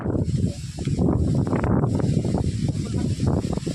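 Strong storm wind gusts roaring across the microphone outdoors near mango trees, a loud continuous rushing hiss with no speech.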